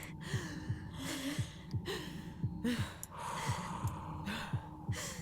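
Alison breathing in the game Tell Me Why, a rhythmic series of short gasping inhales and releases over a soft backdrop, close and fairly quiet, repeating roughly every half second.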